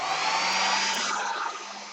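A hair dryer blows in a steady, close, unbroken whoosh with no voices over it.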